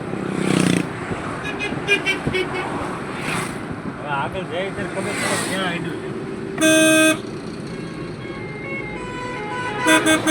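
A highway traffic jam stretching about a kilometre near a toll plaza, with steady engine and road noise, scattered short car horn toots and one loud sustained honk, while someone talks over it.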